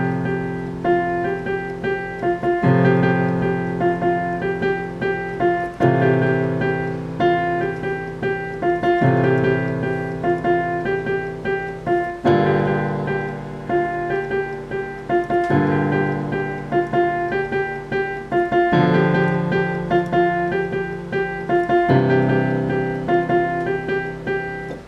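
Piano playing the verse melody of a song, a steady repeating chordal pattern with a simple melody line on top, changing chords every few seconds at moderate, even loudness with no voices.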